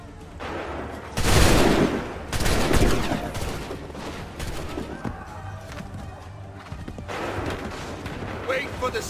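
Volleys of musket fire in Assassin's Creed III, loud broadband cracks around the second and third seconds with scattered shots and battle din following, under shouted commands.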